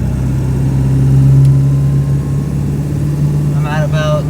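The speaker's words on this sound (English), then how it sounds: "let's see what kind of boost we get with just some normal driving" A 7.3 Powerstroke diesel truck engine drones steadily through normal driving, a low constant hum under the cab with no break, and a brief higher whine near the end.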